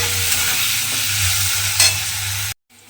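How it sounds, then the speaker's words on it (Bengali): Bitter gourd slices fry in oil with salt and turmeric, giving a steady, close, loud sizzle that runs on alone and then cuts off abruptly near the end. "এবার এই নুন আর হলুদটা দিয়ে উচ্ছেটাকেও কিন্তু একটু লাল করে ভেজে নিতে হবে।"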